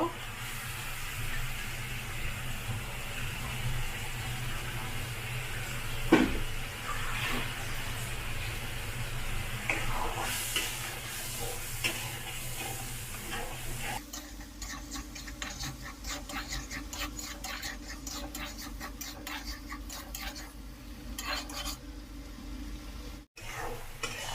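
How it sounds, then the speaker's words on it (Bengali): Salted, turmeric-coated prawns poured into a hot pan of spiced masala for a prawn and pointed-gourd curry, a low background giving way midway to a steady, dense sizzle that continues to the end. "চিংড়ি মাছ লবণ হলুদ মাখিয়ে রেখেছিলাম, চিংড়ি মাছগুলো এখন ঢেলে দিব।"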